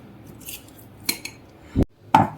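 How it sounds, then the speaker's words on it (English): Boiled potatoes are mashed in a bowl with a utensil, giving a few sharp clinks and knocks against the dish separated by quiet pauses, close by with no talking. "I'll mash this boiled potatoes and then measure 1 cup out of this."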